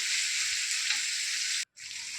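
Chopped onions with salt fry in oil in a pan, a dense steady close sizzle that drops out for a split second before resuming.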